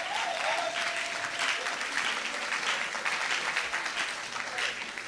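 A church congregation applauding the Lord, a sustained, close wash of many hands clapping steadily for several seconds, filling the room evenly without pauses.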